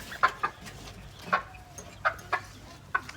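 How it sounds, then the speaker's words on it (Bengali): Newly bought chickens clucking indoors, a handful of short, fairly faint clucks spread unevenly over a few seconds against a quiet background. "নতুন মুরগিকে একটু খেতে দিতেই হবে"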